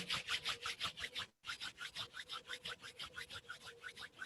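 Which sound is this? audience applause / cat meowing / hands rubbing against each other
hands rubbing against each other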